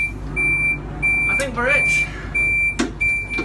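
Warning beeps of a high-speed train door closing on the platform at Beijing South station, an intermittent series of tones repeating every half second or so, with voices speaking over them in a busy station.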